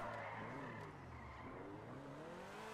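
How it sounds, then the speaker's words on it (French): Engine of a Cheetah Classic sports car in GTA Online, a steady loud motor drone with shifting pitch and faint tire noise, heard alone without talk. "Le moteur est classe, enfin le bruit moteur est vraiment classe."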